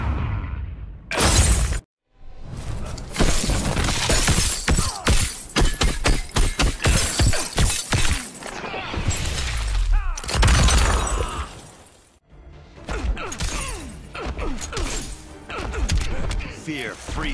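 Ice-shattering attack in the mobile fighting game Injustice 2, heard as repeated sharp crashing breaks and thuds packed with game effects, with stretches of voiced taunts mixed in and short silent gaps between bursts.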